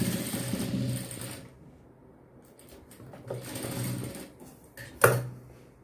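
Sewing machine stitching the folded-in edge at a blouse neckline corner, a steady close mechanical whir for about a second and a half, then short bursts after a pause, ending with a sharp clack.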